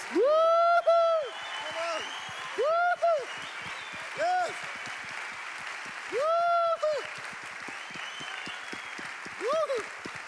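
A church congregation applauds loudly, steady clapping carrying on underneath while several rising, whooping cheers burst out repeatedly over it.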